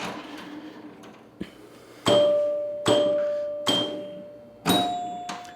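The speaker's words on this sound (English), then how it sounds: "I love the sound of the chimes so much with the spinner" Chimes ring out from the chime box of a vintage Williams Grand Prix electromechanical pinball machine: four loud, clear strikes roughly a second apart, each bell tone decaying slowly, with a few fainter clicks and knocks before them.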